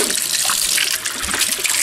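Tap water runs steadily out of a faucet in a home after months without running water, with brief gurgling sputters as air clears from the line, close and continuous.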